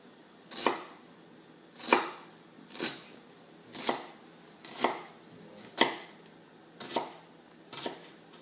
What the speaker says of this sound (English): we're just going to do the small dice, which is what we're going to use on the garnish